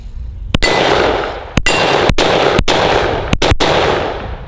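Unsuppressed firearm fired outdoors at a range, six loud sharp gunshots spaced irregularly, each with a long ringing echo tail, no talking.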